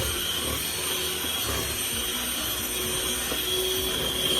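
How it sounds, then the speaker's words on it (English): Cake batter with oil stirred in, for a coconut marble cake, whisked by a loud electric mixer that whirs steadily and close with no pauses. "And whisk this now, guys. So mix this up."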